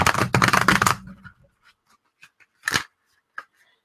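An oversized Schiffer Illuminati Tarot deck being shuffled by hand, a dense riffling burst of card flicks up front, then scattered soft taps and one more short shuffle, close and quiet, with no talking.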